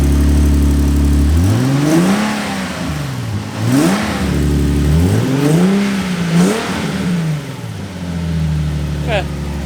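A Nissan 370Z fitted with new intakes idles, then its engine is revved several times in rising and falling sweeps, loud and close, with a voice heard briefly over the engine.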